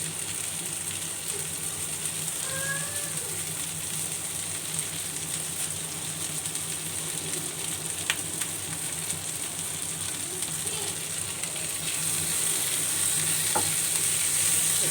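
Tomatoes frying in a pan with green chilies and mint just added, a continuous soft sizzle and crackle with occasional clinks and scrapes of stirring, no voices.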